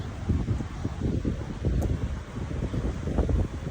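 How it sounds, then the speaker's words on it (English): Wind gusting across a ship's open deck at night, a continuous rumbling buffet against the microphone with low flutter and no voices. "It's a little breezy."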